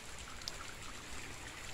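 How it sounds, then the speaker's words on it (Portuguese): Heavy rain falls as a steady, soft, even hiss of water, heard faintly and at a distance, with no voices. "Ó, chovendo bastante."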